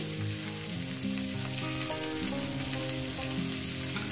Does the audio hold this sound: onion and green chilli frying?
yes